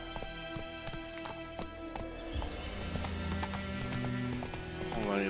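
Horse hooves clip-clopping at a gallop in the video game The Witcher 3, a rapid rhythmic drumming of hoofbeats with a whinny, steady and fairly loud over ambient game sound.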